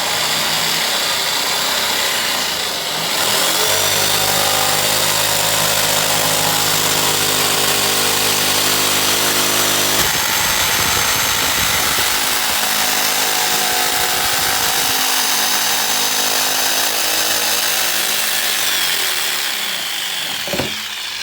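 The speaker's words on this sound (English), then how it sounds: "All right, this is our jigsaw here. Variable speed DeWalt jigsaw." Variable-speed DeWalt jigsaw cutting through material while building a composter: a loud, close, continuous motor whine and buzzing blade that runs almost the whole time, with a shift in pitch partway through and a brief easing near the end.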